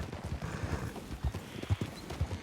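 Horse hooves clip-clop at a steady riding gait in Red Dead Redemption, fairly quiet and close, with no talk over them.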